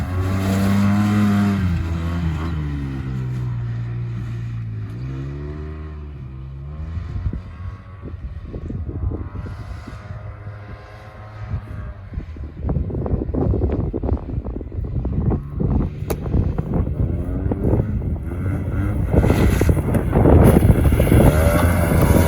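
A Yamaha Rmax 1000 and a Wildcat Trail side-by-side drag race off-road. Engines idle and rev with rising and falling pitch, then roar louder as they accelerate away under heavy wind rumble.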